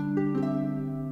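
A few plucked harp notes ring out and overlap, with each new note entering softly over the sustain of the last.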